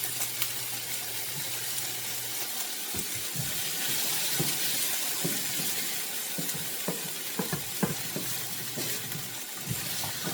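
Onions, celery and peppers frying in a pan give a steady, close sizzle and hiss, with scattered soft crackles and light utensil taps through the middle and end.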